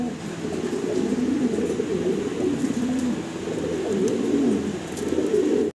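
A pair of black Velvet Shield pigeons coo continuously nearby, overlapping low throaty rolls in a steady rhythm over faint background noise, without any talking.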